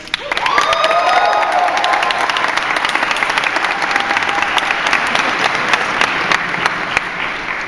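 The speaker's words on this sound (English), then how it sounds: "Everyone give a big old round of applause again" Sustained audience applause at a podcast panel for Power Rangers 20th, dense clapping with some cheers and whoops, loud and steady for the whole stretch before easing slightly near the end.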